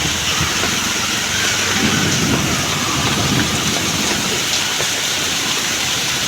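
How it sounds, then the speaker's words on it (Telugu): Heavy rain pours down in Bengaluru, a loud, dense and unbroken wash of noise with no talking. "మమ్మీ బెంగళూరులో వాన వస్తుంది."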